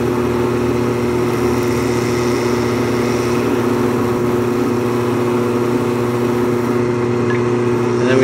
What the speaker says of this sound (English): you get this spinning, of course, and then you load it with polishing compound